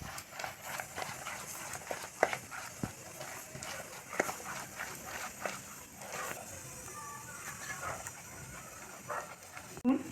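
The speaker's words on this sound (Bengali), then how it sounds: "তো বন্ধুরা, এটা 5 মিনিট ধরে ফেটে নেব" Batter for tomato chop whisked briskly in a bowl, giving a quick run of irregular clicking taps against a low hum of background noise.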